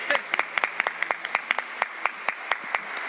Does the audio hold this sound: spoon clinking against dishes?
no